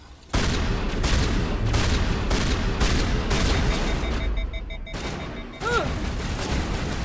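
Weapon fire in the Mass Effect video game, with repeated loud, evenly spaced blasts in a steady rhythm over a continuous battle din, followed by a brief tonal electronic chirp near the end.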